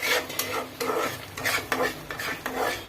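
Raw onion paste masala being sautéed and stirred in a pan, with a steady sizzle broken by repeated scraping strokes of a spoon against the metal, close and fairly loud.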